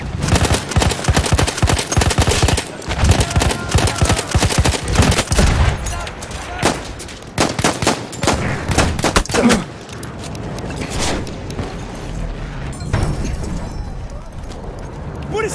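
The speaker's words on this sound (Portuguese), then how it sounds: "Metralhadora inimiga!" Heavy gunfire from a battle in Battlefield 1, loud dense bursts of a machine gun and scattered shots through the first half, thinning later into sporadic cracks amid battlefield noise, with voices shouting over it.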